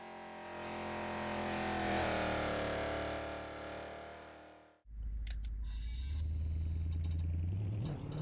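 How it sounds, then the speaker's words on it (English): Aston Martin Cygnet city car fitted with a 4.7-litre 430 hp V8 from the Vantage S, driven on the Monaco street circuit: a loud, sustained engine drone that cuts off briefly, then a deep rumbling idle and rising rev follow. "Driving through the city of Monaco on the racetrack, but in a V8 powered city car."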